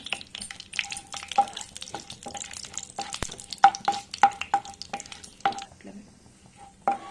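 Cinnamon, cardamom, cloves and bay leaf frying in a pan for pudina pulao, a close sizzle with frequent stirring scrapes and clinks of a spoon against the pan.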